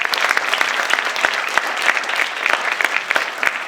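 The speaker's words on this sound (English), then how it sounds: "Give her another round of applause." A crowd claps steadily and loudly, a dense patter of applause throughout with no voices.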